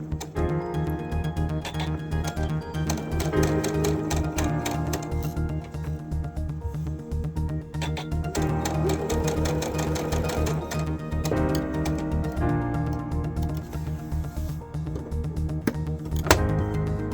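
Sewing machine stitching quilt blocks for a patriotic wave block, a steady rapid mechanical whir running throughout, close and loud, with no talking.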